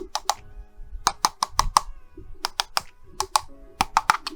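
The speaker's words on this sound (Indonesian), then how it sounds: "kalau kita ketuk-ketuk nih," Sharp plastic taps on the shell of a Fantech G10 Rhasta budget gaming mouse, a dozen or so quick clicky knocks in small irregular bursts, close and crisp with no talking over them.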